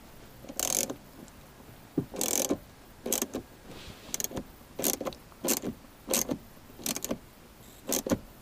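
Stock shift knob being screwed back down onto a VW MK6 GTI shifter, giving a series of short mechanical ratcheting clicks in bursts, close up and alone, with no talking.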